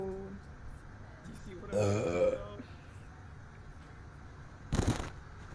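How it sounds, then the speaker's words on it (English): A woman lets out a loud, drawn-out burp with a harmonic, voiced rasp, followed later by a shorter, sharper burst; quiet background noise fills the gaps and no words are spoken. "My burp's kind of be on point right now."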